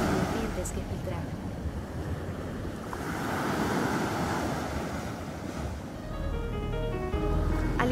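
Ocean surf breaks against a rocky shore at Ensenada, Baja California, a continuous wash of waves with rising and falling surges and wind noise buffeting the microphone.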